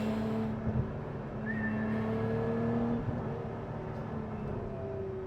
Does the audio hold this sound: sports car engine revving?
yes